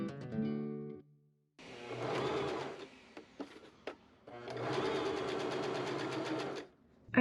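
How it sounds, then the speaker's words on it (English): Sewing machine stitching cream and coloured quilt squares together in a line with a quarter-inch seam, running in two steady, close bursts of fast rhythmic whirring separated by brief pauses and clicks. "I machine sew those in a line using a 1/4 inch seam allowance"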